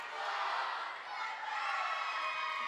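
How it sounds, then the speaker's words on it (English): A volleyball crowd at a district game cheers and shouts in a steady, fairly distant roar, with whoops rising and falling and no clear single voice. "Seems like the Spirit crowd is getting a little more fired up now"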